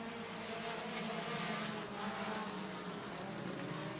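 Sport compact race cars accelerate together at the green flag start of a feature race, heard as a faint, distant and steady engine drone with no talk over it.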